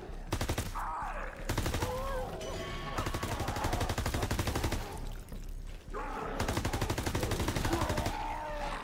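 Bursts of automatic machine gun fire with unlimited ammo in COD: WWII Zombies, loud and rapid, pausing briefly near the middle of the clip, with faint game sounds underneath.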